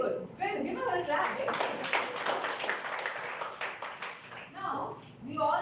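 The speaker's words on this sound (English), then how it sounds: "Give her a clap." A school-event audience claps after being asked to applaud a speaker, a dense burst of hand claps lasting a few seconds, with voices talking at the start and end.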